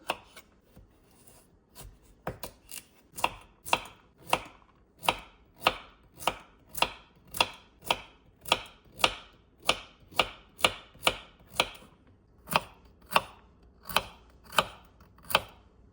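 Knife chopping carrots and other vegetables on a board for one-pot fried rice, a steady run of sharp, close knocks that starts sparse and settles into an even rhythm, with no talk.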